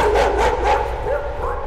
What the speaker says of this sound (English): Oh, they had a dog. Oh great. Okay. It's a good dog, I hear it.